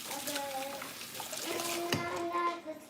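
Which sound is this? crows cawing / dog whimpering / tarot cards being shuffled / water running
water running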